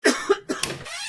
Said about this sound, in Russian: Cough – кашель.